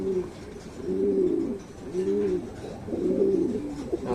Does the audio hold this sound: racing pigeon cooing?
yes